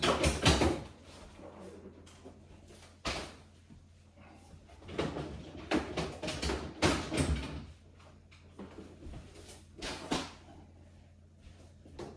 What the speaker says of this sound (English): After that, take off these two drawers.